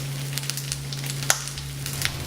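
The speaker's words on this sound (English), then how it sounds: "It's been about 3 minutes. Our Brussels sprouts have really seared." Brussels sprouts searing in a hot pan for a Thai braise give off a steady, quiet sizzle and crackle, with scattered small pops and one sharper snap partway through, under a constant low hum and with no talking.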